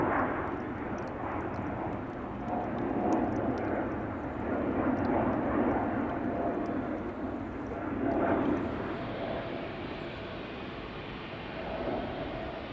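A KLM airliner in 100-years livery takes off at Schiphol, heard as a moderately distant, rumbling jet roar that rises and falls in waves across the clip.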